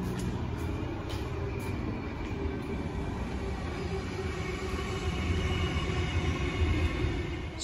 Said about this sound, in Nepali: यसको माथि चाहिँ ट्रेन हिँड्छ ट्रेनको ट्र्याक छ